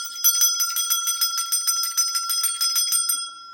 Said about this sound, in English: my fairies love when I ding the bell